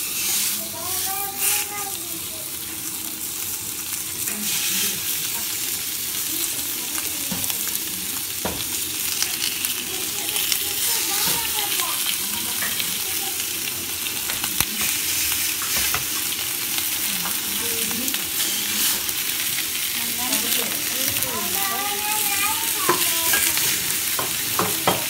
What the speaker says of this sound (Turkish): Şu anda döküm tavam iyice kızı, dumanları görüyorsunuz. Etlerimizi bırakalım.